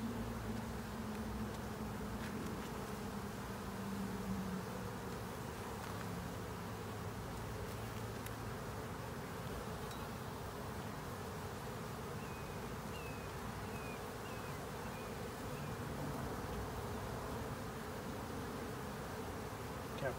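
Steady buzzing of many honeybees around an open hive fills the scene continuously, a soft dense drone with no talking.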